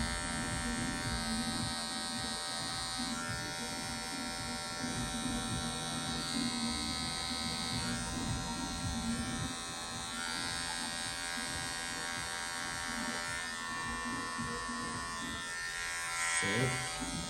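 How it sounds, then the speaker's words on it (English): An electric hair clipper buzzes steadily while fading hair for a classic taper fade, with the motor whine continuing throughout and brief talk heard faintly beneath it. "you can use the edge of the clipper to make sure all the hair is faded"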